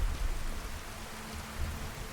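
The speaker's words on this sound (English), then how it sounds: "Oh, it's raining." Steady soft rain patters continuously, a faint even hiss with no voices, in the video game Fallout: New Vegas.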